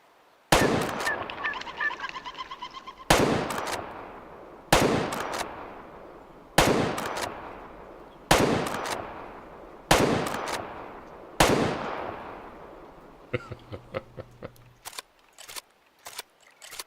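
Rifle shots in the hunting game Way of the Hunter, set on Alaska's Aurora Shores, crack out one by one at spaced intervals, each loud and sharp with a decaying echo, followed by a burst of faster fluttering sounds.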